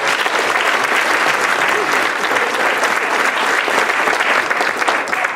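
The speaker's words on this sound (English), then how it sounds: "give her one round of applause for that" Loud, sustained applause from a crowd, steady and dense clapping throughout with no break.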